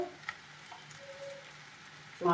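Green and red chillies fry in a hot pan, giving a soft, steady sizzling hiss with a faint crackle and a short louder clatter at the very end.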